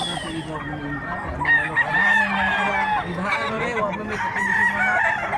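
At a rooster sale in Mantalungon, Cebu, a rooster crows in loud, drawn-out calls mixed with clucking and other fowl nearby, over a low murmur of people.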